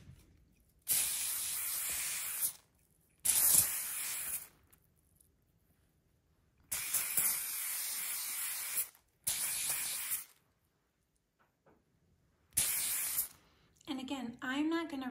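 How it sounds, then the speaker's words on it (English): Several bursts of Apple Garde aerosol protectant sprayed onto Louis Vuitton vachetta leather, each a sharp hiss lasting a second or two, separated by quiet pauses; a voice speaks briefly at the end. "And we are gonna go ahead and spray."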